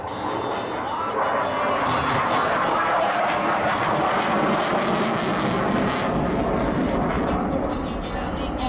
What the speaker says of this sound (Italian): lasciare che i suoi due motori Eurojet 200 suonino la loro sinfonia